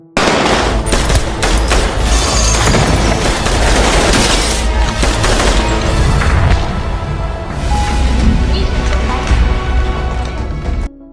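Rapid assault rifle gunfire in a film shootout, with dense, loud bursts of shots running almost continuously alongside crashes and impacts, with no talking.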